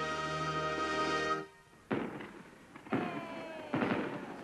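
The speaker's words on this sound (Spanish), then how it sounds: "¡Fuegos artificiales! Me encantan los fuegos artificiales." Cartoon fireworks at a festival: after a held musical tone cuts off, three separate bursts crack and crackle, each booming broadly and then fading, spaced about a second apart with no talk over them.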